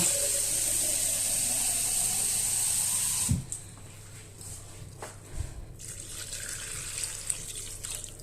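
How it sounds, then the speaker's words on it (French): Water pours from a tap over pasta in a pot on low heat, a steady close rush for about three seconds. It then stops, leaving quiet handling clatter and faint kitchen background. "je vais remettre encore un peu d'eau. Le but, c'est de recouvrir maximum les pâtes."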